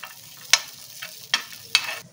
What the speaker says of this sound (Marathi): काजू पण आपण थोडे फ्राय करून घेऊ।